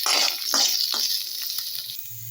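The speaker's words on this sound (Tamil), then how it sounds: "சின்ன வெங்காயம் ரெண்டு பச்சை மிளகா கொஞ்சமாக கருவேப்பிலை இதெல்லாம் எண்ணெயில் போடணும் அப்புறம் இதை வதக்கி விடணும்" Shallots, green chilies and curry leaves sautéing in hot oil for an okra stir-fry, a steady bright sizzle with several soft scraping stirs of a spatula, close and alone.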